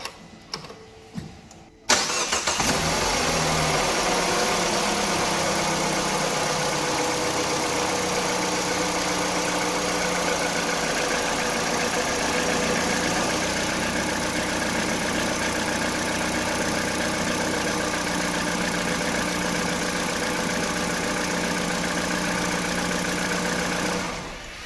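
A petrol Citroën DS3 1.6 VTi engine, freshly refilled with oil, cranks over and starts after a brief quiet moment, then settles into a steady, loud, continuous idle that runs on unbroken until fading at the very end.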